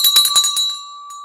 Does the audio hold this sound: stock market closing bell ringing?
yes